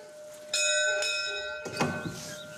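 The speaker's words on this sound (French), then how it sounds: "La sonnette... Ça doit être ça." A doorbell at a château chimes twice, bright ringing tones with a lingering tail, followed by a softer rustle near the end.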